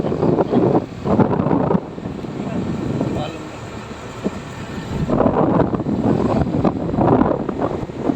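Strong wind over open farmland buffets the microphone in loud, rumbling gusts that swell and ease, with a voice speaking faintly underneath.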